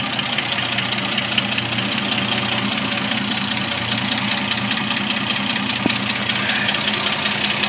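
An old truck engine fitted with a four-barrel carburetor idles steadily up close, a continuous low rumble with a rapid, rhythmic clacking running through it, loud and alone without any voices.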